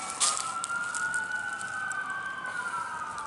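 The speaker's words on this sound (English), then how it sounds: "You hear the ambulances." An ambulance siren wails in the distance near a cemetery, a steady rising and falling tone drifting over a constant background hum; no one speaks.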